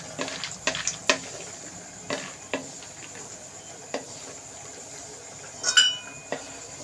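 Peanuts frying in oil in a kadai while being stirred, with scattered clinks and scrapes of the utensil against the pan over a faint, low sizzle; no talking.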